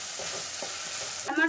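Ginger garlic paste and onions fry in a pan with a dense, steady sizzle, ending in a brief stirring scrape, close and fairly loud.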